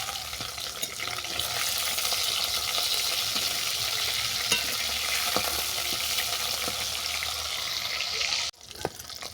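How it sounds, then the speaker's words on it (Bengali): Fish bones frying in hot oil in a village-style kitchen, a steady close sizzle with occasional clinks of a utensil as they are turned, ending abruptly with a brief drop in the sizzle. "মাছের কাঁটাগুলো দু পিঠে আমি উল্টো পাল্টে বাদামি করে ভেজে নিচ্ছি"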